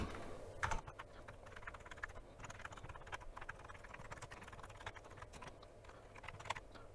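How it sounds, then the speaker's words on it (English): Keys on an Amiga 1000 keyboard are pressed one after another in a quick, steady run of light clicks, close by and fairly quiet. "I just run through all the keys,"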